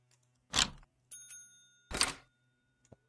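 A hotel reception desk bell in Hotel Business Simulator dinging twice, each bright metallic ring decaying under a sustained tone, with a faint tap near the end.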